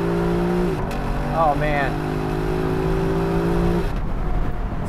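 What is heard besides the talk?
Lexus LC500 convertible accelerating from a dead stop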